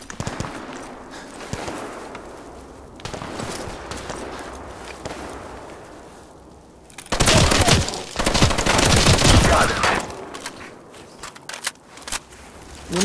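Rapid automatic gunfire in the post-apocalyptic shooter Fallout 4, a sustained loud burst of shots in the middle after quieter footsteps and ambient movement, with scattered single shots toward the end.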